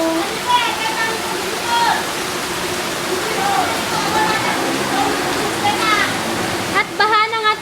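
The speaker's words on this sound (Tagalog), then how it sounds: "At baha na nga talaga." Floodwater rushes in a steady broadband roar throughout, loud and close, with voices chatting and exclaiming over it.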